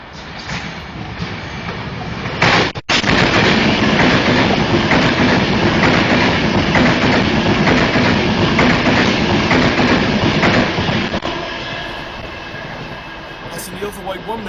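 Avanti West Coast passenger train from London Euston to Edinburgh passing through Bescot Stadium station, a loud sustained rush of wheels and rail noise lasting most of the clip before easing off near the end.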